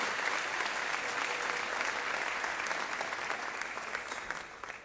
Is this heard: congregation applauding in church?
yes